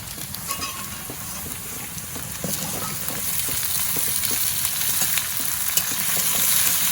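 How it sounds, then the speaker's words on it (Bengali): Vegetables fry with lentils and spices for a Gobindo bhog rice khichuri, a steady close sizzle with light stirring clicks that grows slightly louder over time. "এরপর সবজিটা ভালো করে ভেজে তারপর চালটা দিয়ে দেবে"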